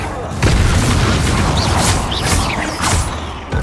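A Bombarda spell blast erupts in Hogwarts Legacy with a sudden heavy boom about half a second in, followed by a continuous dense rumble, whooshing spell effects and clatter.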